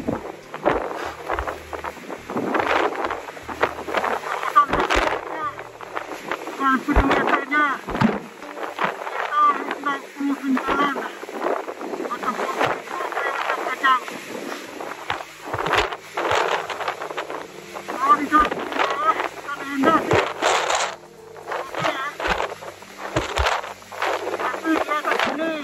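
Strong wind buffets a microphone on a mountain summit, a continuous rough roar with gusty surges lasting throughout, while a person speaks at times.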